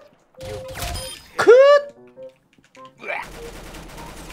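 Gunfire in the Roblox shooter Arsenal comes as a short burst of shots and a bright descending game effect, followed by a denser run of rapid fire, mixed with other game sounds.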